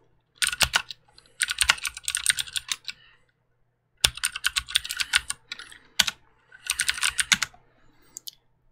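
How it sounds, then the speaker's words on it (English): Typing on a Ducky One 2 Skyline mechanical keyboard with non-clicky switches: close, crisp bursts of rapid keystrokes in several runs separated by short pauses, with occasional single heavier key hits. "I'll kind of type a little bit and let you hear it"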